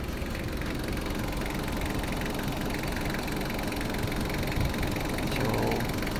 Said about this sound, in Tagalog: lagyan muna natin ulit kung gagana ba yung ating compressor